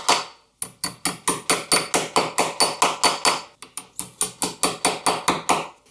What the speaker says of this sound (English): start driving in my tacks